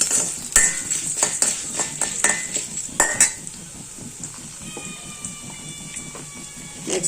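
Urad dal roasting in a pan while a metal spoon stirs it, giving irregular clinks and knocks against the pan's sides over a soft, dry rustle, with no talking.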